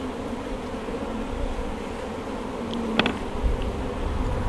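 Honey bees at an open hive during queen-rearing grafting, a steady close buzzing drone of many insects that continues evenly, with a brief sharper tap or knock near the end.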